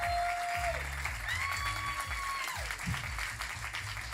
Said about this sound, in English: Can we get a big round of applause for TristaBytes?